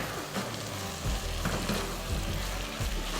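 Beef stir fry with a little cornstarch and spring onion sizzles in a pan, a soft steady frying hiss broken by low scraping and knocking as a utensil stirs it, with no talking.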